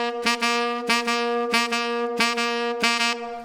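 A single pitched melodic instrument repeats one note in stiff long-short dotted-eighth and sixteenth pairs instead of a relaxed jazz swing feel, steady and clear with no talking.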